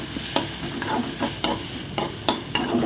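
Banana pieces frying in ghee, with repeated stirring scrapes and soft sizzling from a pan, spaced roughly every half second, close and moderately loud with no voices.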